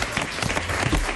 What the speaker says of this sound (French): On peut l'applaudir, Artus de retour.